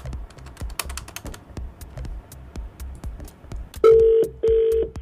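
A telephone number is dialed with a rapid series of short keypad beeps and clicks, followed by two long ringback tones of a call ringing through a phone line, with no talk.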